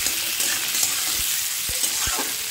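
Grated ginger and garlic stir-fried in a pan, giving a steady broadband sizzle with a few soft low knocks of the spatula against the pan toward the end, close and fairly loud throughout.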